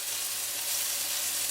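Browned chicken sizzles steadily in a hot pan as vinegar goes in, a loud, even hiss of frying without talk.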